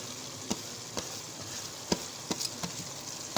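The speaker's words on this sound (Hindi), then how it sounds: "अब मैं यहाँ पे ये फूल गोभी डाल रही हूँ और हरी प्याज और बंद गोभी सब साथ डाल दूँगी" Cauliflower, green onion and cabbage sizzle together in a frying pan as a soft, steady crackle, broken by several sharp clicks and taps of stirring.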